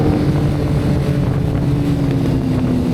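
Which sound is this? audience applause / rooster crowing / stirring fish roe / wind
wind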